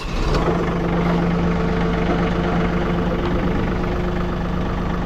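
A John Deere tractor engine idles steadily and close by, a constant low rumble with a droning hum and no speech over it.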